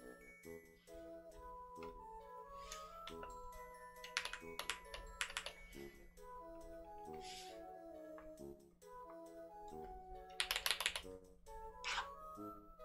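Clicky computer keys are typed in quick, irregular bursts at close range over a steady background hum, with a few sharper clusters of clatter.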